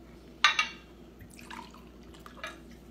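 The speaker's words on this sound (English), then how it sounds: "Let's get a drink on it, shall we? Let's pour one out." Liquid is poured into a glass in a few brief splashy bursts, close and fairly quiet, with a small clink at the start.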